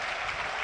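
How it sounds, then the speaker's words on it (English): A large football stadium crowd at Burnley versus Newcastle United on Premier League final day applauds steadily as players take a knee, a dense, even wash of clapping with no voices standing out. "The players take a knee, applauded by the crowd."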